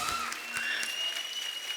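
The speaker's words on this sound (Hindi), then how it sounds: "जोरदार तालियां।" An audience applauds steadily at a TV show welcoming women cricketers, a dense even patter of clapping, fairly faint and unbroken throughout.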